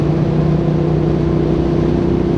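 A V-twin engine drives out of a corner with a steady, throaty hum, loud and close, holding one even tone across the brief run without a clear rise or break.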